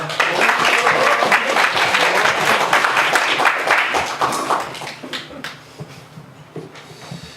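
Sustained applause from a sizable crowd at a political party leadership election rally, loud and dense at first, then gradually thinning and fading toward the end.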